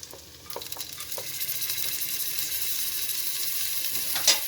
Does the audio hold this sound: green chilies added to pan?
yes